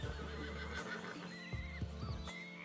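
Horses whinny and neigh in Red Dead Redemption 2, with two or three long, wavering calls close by, light hoof clops and low snorting underneath, and no talk.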